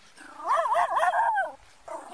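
A dog being held during a police encounter at a national park gives a close, loud whining bark that rises and falls in a wavering whimper for about a second, then quiets briefly before another yelp begins.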